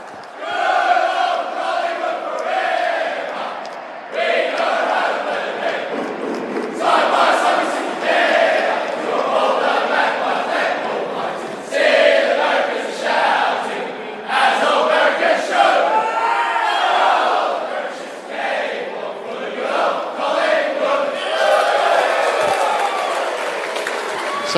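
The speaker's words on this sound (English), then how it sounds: "the Pies, as they're gathering to sing the song in a moment" Collingwood AFL players and their crowd sing the club song together after a four-point win over Essendon in 2022, a loud, continuous chorus of many voices that rises and falls in phrases over steady crowd noise.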